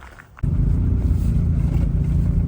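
Volvo 960 Turbo Brick with a manual gearbox and a loose wastegate setup, engine starting and settling into a steady low rumbling idle, close and loud, alone.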